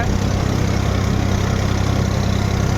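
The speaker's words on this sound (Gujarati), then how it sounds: "ટ્રેક્ટરમાં થોડોક અવાજ ઓછો આવે આપણો વિડીયોમાં, કેમ કે ટ્રેક્ટરનો અવાજ વધારે આવે।" A tractor engine idles close by with a steady, loud, low throbbing rumble and even vibration that holds unchanged from start to end, with no talking over it.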